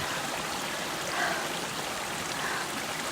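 A waterfall in a natural setting rushes continuously: a steady, full hiss of falling water with no pauses and no voices.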